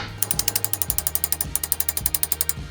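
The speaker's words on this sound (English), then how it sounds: "now I can just tap the top of it with a hammer" A hammer taps a small brass drift against a track rod end in a rapid, even series of about twenty-five sharp metallic knocks, close and clear, with no talk.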